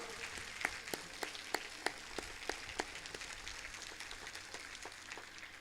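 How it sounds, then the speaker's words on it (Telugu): Scattered, fairly quiet hand clapping from a crowd at a church festival, uneven individual claps rather than a full roar, heard from some distance. "అందరం కలిసి గట్టిగా చప్పట్లు కడదాం."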